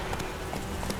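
Roach the horse galloping in The Witcher 3, a steady run of soft hoofbeats over ambient game noise, brief and continuous.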